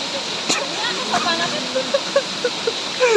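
Clear, cold stream water flowing steadily in a continuous rushing wash, with voices talking and brief splashes over it.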